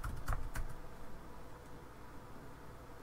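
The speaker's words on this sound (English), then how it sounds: "Make sure you type it twice." A password being typed on a computer keyboard, a quick cluster of close key taps at the start, then only quiet room hiss; no one speaks.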